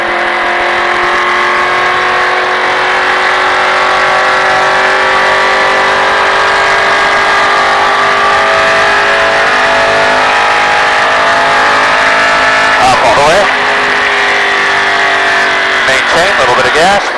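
A car engine drones loudly and steadily while driving, with rising and falling engine tones near the end as gas is applied.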